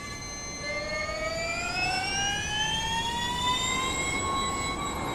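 Electric motor whine of the Porsche Mission R all-electric race car in iRacing, a steady rising multi-toned jet-like whistle that climbs in pitch as the car gathers speed, loud and alone.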